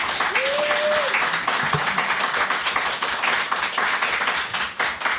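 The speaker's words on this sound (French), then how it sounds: "On fait des gros applaudissements à Bad Geek." A podcast audience at PodCastres 2025 gives a long burst of dense applause with scattered cheers, holding steady before thinning slightly toward the end.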